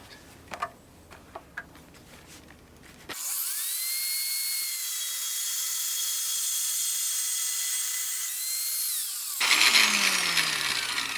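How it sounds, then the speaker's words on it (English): An angle grinder runs lightly along a marked cutting line on metal for a DIY pellet smoker, a loud steady high whine lasting about six seconds after a few quiet taps, then other workshop noise follows. "I'm going to run the angle grinder lightly the whole length"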